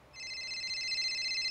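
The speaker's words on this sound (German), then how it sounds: "Oh, sorry, Telefon." Telephone ringing in a farming simulator game, an electronic tonal ring that starts just after the opening and holds steady at moderate volume, with no voices.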